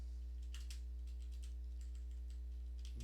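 Fingers typing on a computer keyboard while writing C# code, a run of light, irregular key clicks with a few quicker bursts, heard close over a strong steady electrical hum.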